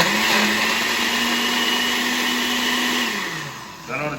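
A blender whirs steadily as it mixes a thick egg nog milkshake with ice cream, a loud continuous motor drone that dips in pitch near the end as the load shifts, with no talking.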